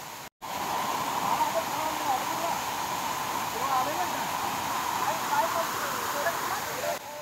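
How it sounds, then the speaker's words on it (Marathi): Village waterfall in the rainy Konkan countryside pours with a steady, dense, broadband roar for several seconds after a brief cut at the start; some indistinct voices may sit beneath it. "तर आम्ही आता ह्या धबधब्याचा आनंद घेतो."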